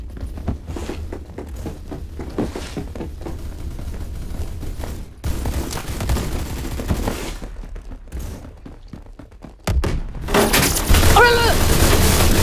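A Remington pump-action shotgun firing in the video game Phantom Forces, several loud, sharp blasts spread across the stretch amid other game noise and footsteps, with someone talking over it.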